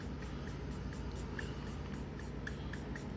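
An Ohuhu alcohol marker streaks across paper, faint scratchy strokes repeating close by over a steady background hum, no talking.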